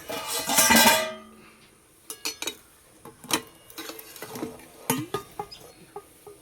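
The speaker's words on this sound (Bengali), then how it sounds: "এবার ঢাকনাটা খুলে দেব।" A lid comes off a container of ridge gourd steamed with coconut: a loud scraping rattle first, then scattered light clicks and knocks close by, with no voices.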